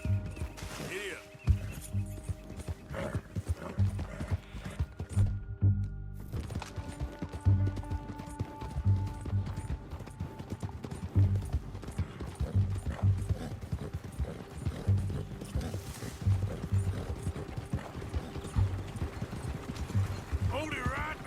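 Horse hooves galloping at a steady, rhythmic clip-clop in Red Dead Redemption 2, the repeated beats close and prominent over game ambience, with brief speech nearby.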